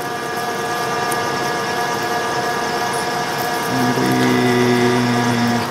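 Machine running steadily on a bearing housing for an etching press, likely a lathe turning at 520 RPM, giving a continuous mechanical hum with tonal whine that rises slightly in pitch and loudness near the end.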